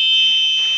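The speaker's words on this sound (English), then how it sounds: "see the sounding of the buzzer." A small piezo buzzer wired to pin 9 of an Arduino Uno, controlled over an HC-05 Bluetooth module, gives a steady, loud, high-pitched electronic tone that holds unbroken throughout, with no other sound.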